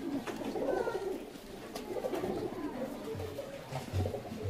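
Low, soft cooing from Andra pigeons in a loft comes in repeated murmuring calls, close by but fairly quiet, with faint background rustle and no clear talk.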